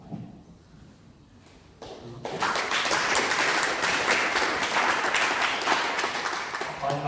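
Audience applause at a Kayinga open day, starting after a quieter stretch with a few thumps, then swelling into loud, sustained clapping from a large crowd that carries on to the end.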